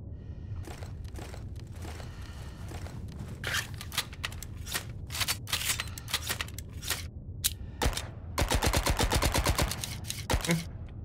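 Video game gunfire from a Vector and other guns in Zed Zone, bursts of rapid sharp shots with scattered single cracks, ending in a dense automatic volley, fairly loud and close.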